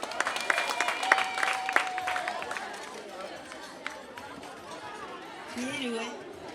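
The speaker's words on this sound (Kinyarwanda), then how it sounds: "tumuha amashyi menshi cyane" A crowd at a party breaks into applause, a burst of dense clapping with cheers and chatter that gradually fades, then people talk over the dwindling noise.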